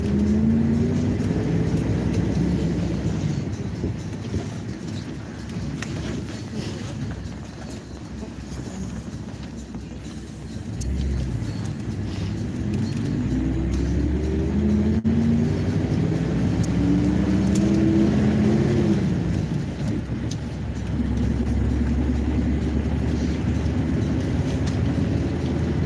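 A car drives a road in Yakutsk at -47 degrees, engine rumbling low and continuous with gear-change pitch sweeps and road noise, no voices.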